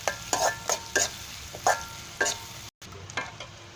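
Chopped onion and garlic fry in a pan with a soft sizzle, while a spoon stirs in several distinct scraping strokes against the metal. A brief dropout cuts in near the end.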